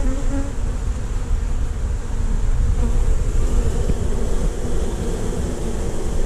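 Honey bees fanning at a colony being cut out from the floor of a second story, a dense, continuous close buzzing hum that stays loud and steady from start to finish.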